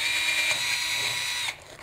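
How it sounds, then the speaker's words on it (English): A power drill bores a hole through a wooden board, giving a steady, close, high-pitched whine for about a second and a half before it cuts off abruptly. "drill another hole"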